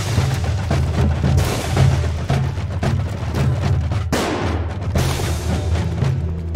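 Near-continuous machine-gun fire pounds at the player in the video game Ape Out, loud, dense volleys of booming shots with only momentary breaks, layered over a low droning score, with no voices.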